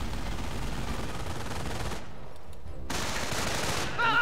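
Heavy machine gun firing in the war video game Company of Heroes, dense continuous bursts of rapid shots that break off briefly, then resume loud and near.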